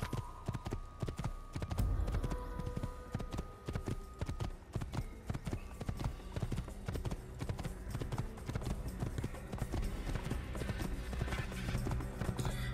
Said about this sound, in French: ça fait longtemps que j'ai pas pris le cheval.